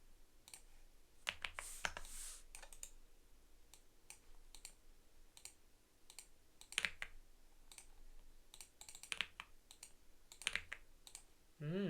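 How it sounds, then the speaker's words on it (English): Keys clatter on a computer keyboard in scattered bursts of typing, close and fairly quiet, with pauses between clusters of clicks and no talking. "I'll type this manually."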